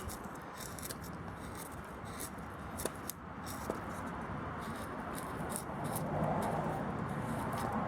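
A Mora Pro Robust knife carving fine shavings from wood for fire starting, giving soft scraping strokes with a few sharp clicks, close and fairly quiet.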